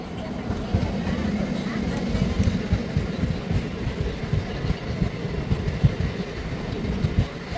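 Steady low rumble and rattling wheel noise of the Ratnachal Express passenger train running between Vijayawada and Visakhapatnam, heard from on board, continuous and fairly loud for the whole stretch with no clear braking squeal.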